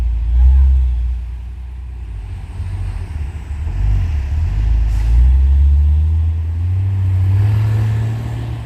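A truck labours up a steep hill road, its low engine drone swelling and easing as it climbs, with other vehicle noise mixed in and no clear talk.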